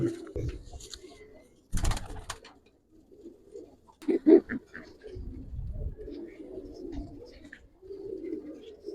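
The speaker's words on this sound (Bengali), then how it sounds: "বেশ বড় সাইজের কবুতর মনে হয় নর না মাদি এটা মাদি কবুতর" Giribaz pigeons coo in a loft, with low throaty calls repeating near and far, brief rustling and wing sounds, and a little soft talk in the background.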